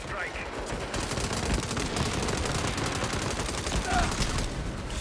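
Rapid, sustained automatic gunfire from a mounted gunner in the Saints Row game, a steady stream of shots at moderate loudness running through the whole stretch with battle noise layered underneath.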